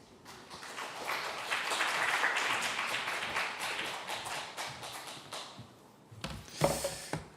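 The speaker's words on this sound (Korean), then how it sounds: "나오실 때 큰 박수 부탁드립니다." A church young-adult congregation breaks into warm applause as a missionary comes forward, the clapping swelling and then fading over several seconds, followed by a few close knocks and shuffling sounds.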